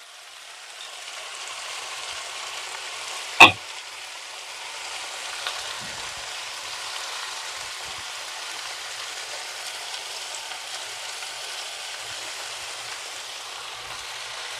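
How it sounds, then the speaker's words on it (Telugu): Chicken pieces fry in oil in a pan for a drumstick chicken curry, giving a steady, quiet sizzle with one sharp click early on, and no voices. "చూడండి చికెన్ కూడా ఫ్రై అయింది ఆయిల్ సపరేట్ అయిపోయింది"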